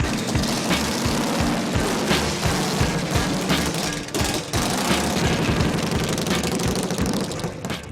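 Repaired motorcycle engine running after being fully taken apart and rebuilt, a rapid, rough, loud and close mechanical chugging that continues steadily with brief dips, amid busy background noise.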